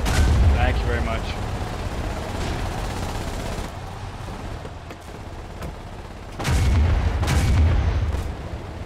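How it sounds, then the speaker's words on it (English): Artillery shells boom in the war game Foxhole near a bunker base at Iron Junction, with heavy blasts and rumbling impacts rolling in repeated bursts amid other gunfire, some louder, some farther off, with occasional voices. "Keep firing the artillery, you're right on the bunker base, keep firing."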